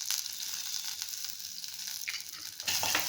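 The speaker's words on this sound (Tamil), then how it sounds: "எல்லாத்தையும் ஒன்றா போட்டு நம்ம வந்து வறுக்க போகிறோம்" Chana dal, coriander seeds, fenugreek and black pepper roast together in a pan for wedding-style sambar. A faint, soft crackling sizzle comes with light stirring, and it swells a little louder near the end.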